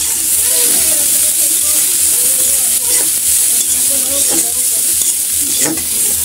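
Garlic, onion and chili fry in hot oil with a loud, steady sizzle and hiss that runs the whole time, with occasional stirring scrapes and a faint voice in the background.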